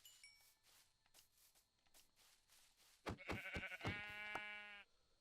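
A Minecraft sheep bleats loudly once after a few soft clicks and taps, its wavering cry close and clear before fading out.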